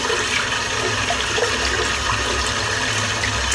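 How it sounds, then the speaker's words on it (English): Water runs steadily from a tap while a shaving brush is rinsed out, a loud, close, continuous splashing rush with no pauses. "I shall wash the brush out."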